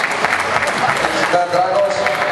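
An audience at a 2012 drift racing awards ceremony claps for a competitor, a steady crackling patter of many hands sustained throughout, with a faint voice briefly rising over it midway.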